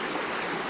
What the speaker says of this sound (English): the water is able to flow really fast into the river